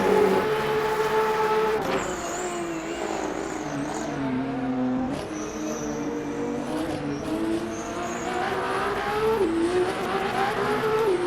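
Alpine race car, number 36, lapping at night in Le Mans Ultimate, a sustained engine drone whose pitch climbs and drops through gear changes, with brief tire squeal and loud, close revving throughout.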